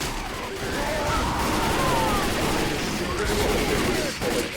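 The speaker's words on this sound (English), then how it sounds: "You are shooting me" Sustained bursts of gunfire in Left 4 Dead 2, rapid overlapping shots and booms with game noise, loud and continuous throughout.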